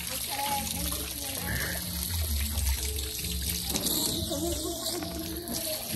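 Water running from a garden hose into a water tank, a steady splashing flow under nearby voices talking.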